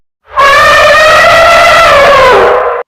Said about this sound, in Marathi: हत्तीचे चितकारणे हत्ती ओरडतात ना